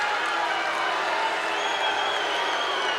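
A capacity wrestling crowd in a Winnipeg arena roars steadily in displeasure at Goldust, a dense, continuous wall of jeers and shouting that holds at the same level for the whole span.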